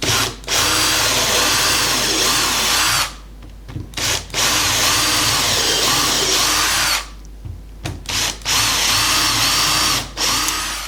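A power drill fitted with a 3mm bit bores holes straight through two stacked wooden boards. It whines loudly and steadily in long bursts, stopping briefly between holes.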